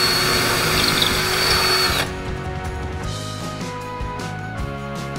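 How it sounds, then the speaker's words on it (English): A power drill fitted with a big bit bores into a wall while a bracket is being mounted, a loud steady whine for about two seconds before dropping to a lower hum. "I'll put a big drill bit in."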